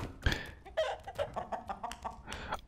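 A chicken clucks in short, irregular bursts from the druid's chicken form in the fantasy dungeon game Dark and Darker, close and fairly clear, with one sharp click near the start.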